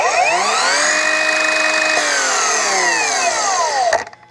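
An Evolution R255SMS-DB-Li cordless multi-material miter saw whines loudly and steadily through a cut for about four seconds, its pitch sagging slightly, then the motor brakes abruptly and falls silent.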